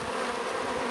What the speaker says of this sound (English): Everything else is from these other bees that are here.